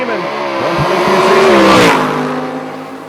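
Small block race car accelerating hard down a drag strip, a loud rising engine roar that builds to a peak near the middle then eases off as it pulls away, with faint crowd chatter underneath.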